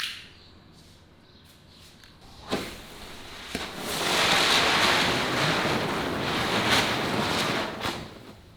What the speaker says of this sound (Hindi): तो डिब्बे के अंदर से चक्रियाँ निकलती है काफ़ी सारी।